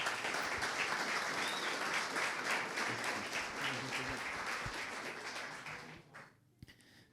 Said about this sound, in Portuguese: Então eu queria uma salva de palmas para receber aqui Silvio Risse.